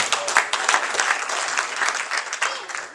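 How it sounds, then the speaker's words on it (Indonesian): A church congregation at a Sunday Pentecostal service claps loudly and densely for a few seconds, the applause close and continuous with slight swells and no clear talk. "Tepuk tangan dulu buat Tuhan."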